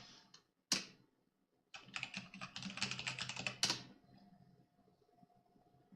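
Crisp keystrokes click on a computer keyboard, a few isolated taps followed by a quick, dense burst of typing and a final sharp key press, then quiet hum.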